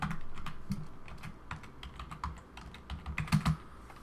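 Keys clatter on a computer keyboard as a user name is typed in, a quick irregular run of close clicks with a few louder strokes near the end, and nobody speaks.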